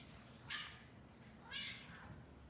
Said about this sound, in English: there's some cats wrestling in the back